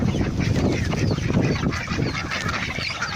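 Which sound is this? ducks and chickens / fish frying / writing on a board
ducks and chickens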